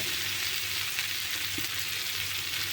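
Curry with chili powder frying in a pan for a dried-fish and eggplant stew, giving a steady, moderately loud sizzle with faint stirring, no voices.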